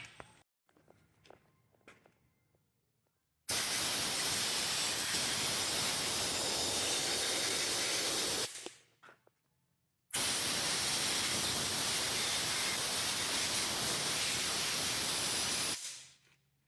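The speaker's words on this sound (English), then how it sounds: "I'm gonna get the air compressor and blow some of that dirt off." Two long bursts of compressed air from an air compressor nozzle blast dirt off parts of an IH 966 tractor, each a loud steady hiss lasting about five seconds, separated by a quiet pause with faint handling noises.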